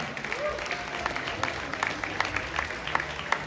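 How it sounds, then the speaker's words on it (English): Fairly quiet, scattered applause with individual claps at a boxing press conference, heard with crowd murmur in the room. "Big round of applause for Rick El Castigo Medina."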